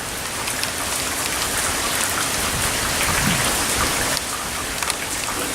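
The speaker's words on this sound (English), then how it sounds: "it appears right here that it seems to be raining even harder" Heavy rain pours steadily in Austin, Texas, a dense, loud hiss of drops hitting the ground and puddles that holds without a break and has no voices over it.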